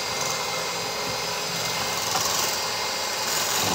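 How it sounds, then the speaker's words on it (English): An electric mixer whips schmaltz and egg into mayonnaise, giving a steady, dense, whirring buzz that does not let up and stays at an even loudness throughout. "I'm just going to continue whisking this until it is nice and thick."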